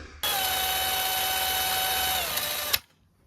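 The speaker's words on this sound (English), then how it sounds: "I'm going to drill a small pilot hole for a grub screw" A small power drill whirs steadily at close range for a couple of seconds, drilling a pilot hole for a grub screw on a sailboat propeller, its pitch dipping slightly under load before it cuts off.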